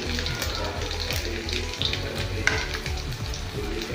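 Chillies, garlic and ginger with cumin sizzle steadily in hot oil for a panchmel dal, a constant close frying hiss broken by stirring clinks and small pops, with a voice talking over it.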